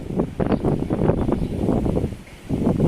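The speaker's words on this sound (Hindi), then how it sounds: "थोड़ी इस समय हवा चल रही है, थोड़ी नहीं एक्चुअली काफ़ी हवा चल रही है" Strong outdoor wind buffets a smartphone microphone, producing a continuous loud, low rumbling roar with gusty surges that runs throughout.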